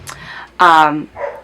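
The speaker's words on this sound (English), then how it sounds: "if you can hear barking, that is my mother-in-law's puppy" A puppy barks at a vacuum cleaner, a loud, close, high-pitched yap followed by a shorter softer yelp, with a faint voice just before.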